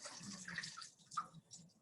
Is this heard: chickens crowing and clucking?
no